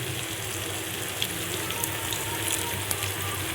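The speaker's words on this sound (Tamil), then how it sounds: "கொஞ்சமாக தண்ணி ஊற்றுறோம்" A little water is poured into a hot pan of frying green mango, giving a steady hissing, sizzling crackle with scattered pops throughout, loud and close.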